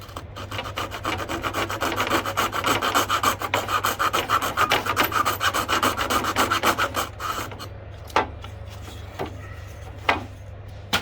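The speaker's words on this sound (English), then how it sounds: "you'll cope to that line and you'll cut back on an angle approximately 45 degrees" A hand coping saw cuts a cope along crown molding, fast rasping back-and-forth strokes, loud and close, for about seven seconds before slowing to a few scattered scrapes and taps.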